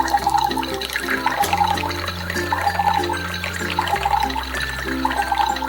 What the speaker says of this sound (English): That really poured water into this mug